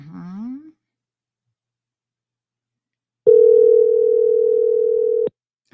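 A steady telephone dial tone sounds loud and close for about two seconds, cutting off abruptly, after a brief murmur of a voice and a stretch of silence.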